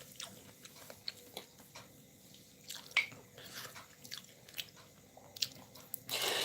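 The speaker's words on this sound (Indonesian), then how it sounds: "Bunyinya tuh enak, kriuk kriuk kriuk." Someone chews corn during a pre-dawn sahur meal, with faint, close, irregular crunchy bites and moist chewing that end in a brief louder rush of noise. No voices.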